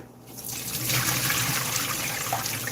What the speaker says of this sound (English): we're going to strain off this water.